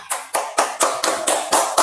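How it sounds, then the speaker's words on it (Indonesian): A classroom of children claps in unison for a student group: eight sharp, evenly spaced claps about a quarter second apart, close and crisp, with no talking. "Tepuk tangan untuk kelompok 2"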